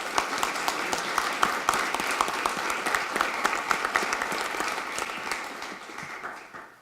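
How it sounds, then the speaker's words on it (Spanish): An audience at an innovation panel event applauds the panelists, dense rapid clapping that holds steady for several seconds, then fades out toward the end. "Les quiero pedir un aplauso para los panelistas."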